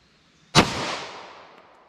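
A single loud, close gunshot from a .40 S&W pistol firing 155-grain rounds, a sharp crack followed by a long, fading echo tail, with no talking.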